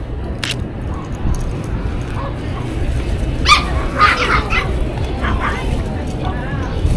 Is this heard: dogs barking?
yes